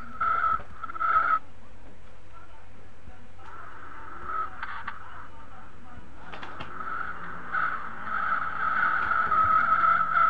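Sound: car drifting and tire skidding in Live for Speed video game

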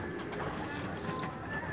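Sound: Teddy pigeon cooing

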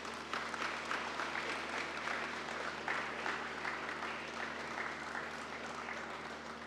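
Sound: audience applause

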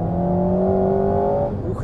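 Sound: Alpine A110 sports car engine accelerating

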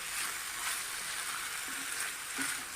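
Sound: sautéing mixed vegetables in a pan

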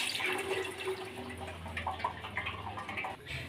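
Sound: rinsing boiled penne pasta in cold water

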